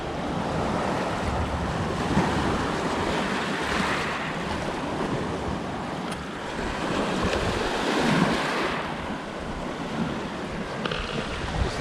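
Waves wash steadily on a lake in Saskatchewan, a continuous broadband rush with gentle swells in intensity, heard alone without voices.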